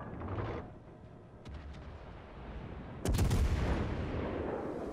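Warship guns firing in World of Warships, a heavy booming salvo that bursts in loud and close, preceded by a few lighter cracks and followed by a lingering rumble.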